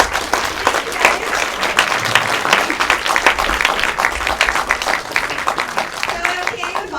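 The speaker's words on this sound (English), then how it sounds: "Big round of applause." Audience applause at a FrightFest 2014 horror film Q&A, a steady dense wash of clapping from a crowd lasting several seconds and tapering slightly at the end, with some voices mixed in.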